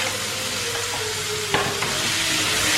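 Small boneless chicken pieces fry in a pan with softened onion and tomato, a steady close sizzle with a few sharp scraping stir clicks partway through, and no talking.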